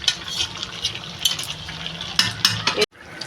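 Chicken pieces are stir-fried in a pot, brisk spatula strokes scraping and clinking against the metal over a low sizzle, in short bursts that stop abruptly near the end.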